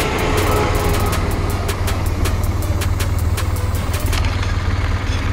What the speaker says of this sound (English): It's not a rapid train, that.